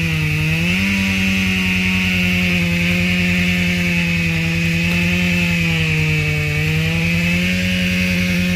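A chainsaw cutting big timber in the woods, its motor running loud, close and steady for the whole stretch, the pitch dipping briefly near the start as the chain bites into the wood.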